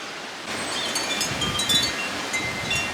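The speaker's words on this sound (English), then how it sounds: "As you can see, it's still blustery here, and the wind has brought down one of the branches" Blustery wind gusting through an outdoor garden, a steady broadband rush with faint rustling, rising slightly in the middle and ending in a brief close buffet.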